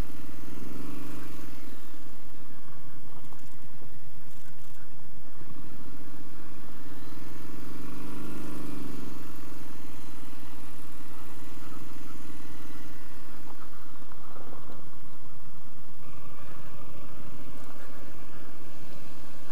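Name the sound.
Triumph Street Scrambler motorcycle riding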